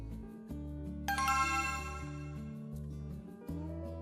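A phone ringing with a tinkling, bell-like ringtone that repeats over a low, steady musical tone, moderately loud and with no talk.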